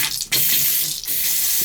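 Water rushes steadily and loudly into a toilet tank that had not been filling, briefly cutting out once before flowing on without interruption.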